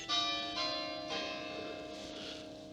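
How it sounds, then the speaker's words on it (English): The church bell at St Columb Major in Cornwall strikes the time: three clear, evenly spaced strokes, each leaving a rich ringing hum that hangs and slowly fades. "Church bells striking 1:15."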